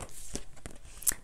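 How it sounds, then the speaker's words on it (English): Soft riffling of tarot cards being shuffled, a few quick flicks and taps close by, fairly quiet with no talking. "I'll shuffle one more time."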